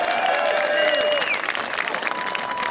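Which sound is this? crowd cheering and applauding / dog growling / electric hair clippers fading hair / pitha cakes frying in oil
crowd cheering and applauding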